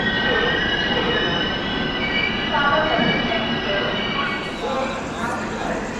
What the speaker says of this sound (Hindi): आ गई दुरंतो एक्सप्रेस 12268 दुरंतो एक्सप्रेस।